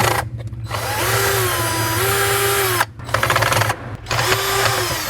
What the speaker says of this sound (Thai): ไขน็อตออกมานะครับผม